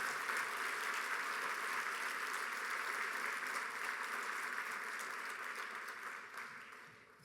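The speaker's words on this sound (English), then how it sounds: "So one more round of applause for Andre." A crowd applauds at the Junior Achievement Business Hall of Fame event, many hands clapping in a full, sustained roar that holds steady and then tapers off toward the end.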